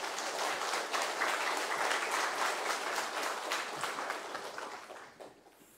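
A church congregation applauds to welcome a new pastor before his first sermon, dense sustained clapping filling the room that holds steady and then tapers off near the end.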